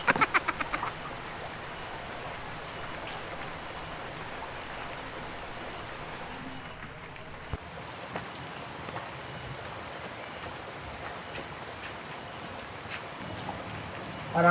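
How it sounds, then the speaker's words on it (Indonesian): Steady rain falls continuously, a dense hiss of drops on surfaces, with frogs croaking faintly beneath it and a few brief knocks at the start. "Kan hujan yang dia teh."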